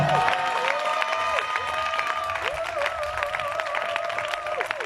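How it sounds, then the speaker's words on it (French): A church congregation claps and cheers loudly in praise during a worship service, with sustained applause under a bright, held musical tone that rises and falls. "Est-ce qu'on peut acclamer le Seigneur Jésus très fort?"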